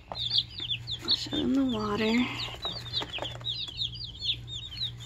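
Many small baby meat chicks peep in rapid, high chirps close by, while a person speaks briefly over them midway.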